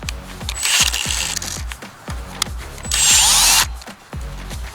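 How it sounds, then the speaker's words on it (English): A hand drill whirs and drills in two bursts in an open field, with repetitive ratcheting clicks and mechanical knocking running throughout at close range. "Just a little hand drill."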